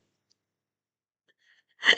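One person sneezes once, sharp and fairly close, right at the end of near silence.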